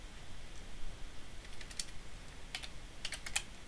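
Soft keyboard typing in short bursts of quick keystrokes on a computer keyboard, entering script code, fairly quiet over a low background hiss with no talk.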